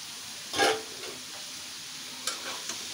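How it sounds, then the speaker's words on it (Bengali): Boiled vegetables going into frying onions in a pan: a faint steady sizzle with one louder clatter and splash near the start and a few lighter scrapes afterward. "সিদ্ধ করে রাখা ভেজিটেবলটাকে আমি অ্যাড করে দিচ্ছি"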